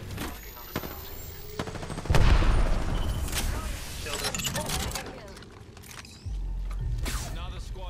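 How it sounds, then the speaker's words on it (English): Gunfire in a shooter video game, a busy stretch of repeated shots and bursts with a heavier blast partway through, heard amid game noise and a player talking. "I'm getting shot from behind."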